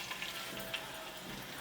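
Green chillies sizzle in hot oil in a pan, giving a soft steady crackling fry with a few small pops, quiet and close with no talking.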